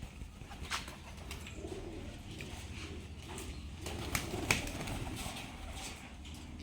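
Rajshahi Giribaz pigeons coo softly in a loft. A steady low murmur of overlapping calls continues throughout, with some faint rustling and shuffling mixed in.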